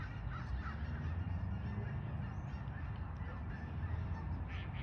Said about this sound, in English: Man, that grouping of ducks is just nuts.